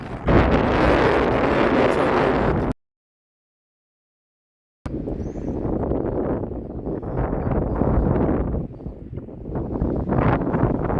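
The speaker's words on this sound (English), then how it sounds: "We got some wind." Strong wind buffeting a microphone outdoors in a small Indiana town, a loud continuous roar broken by a sudden two-second dropout, then gusting on again.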